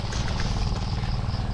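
Motorcycle engine running close by, a steady low rumble with a fast throbbing pulse that holds even and loud for the whole moment, no voices over it.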